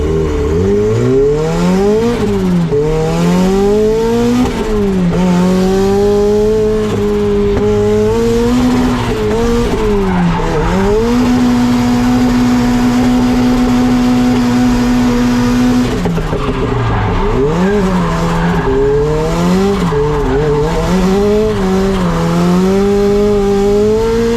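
A turbocharged Mazda Miata drifting revs hard in rising and falling surges with a long held high note midway, tires squealing and skidding loudly and close, with no talk.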